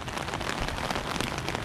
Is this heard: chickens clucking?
no